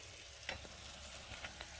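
Steady, soft sizzling of bacon frying in a pan, with a few faint clinks and stirring sounds over the continuous crackle.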